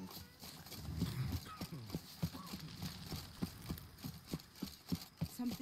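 The horse Roach in The Witcher 3 walks with a steady, rhythmic clip-clop of hooves, moderately close. A voice speaks over the hoofbeats.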